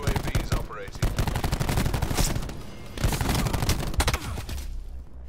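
Gunfire in a Call of Duty match: dense bursts of automatic fire and rapid shots crackle loudly and continuously across the whole stretch, with brief surges and pauses, mixed with game effects.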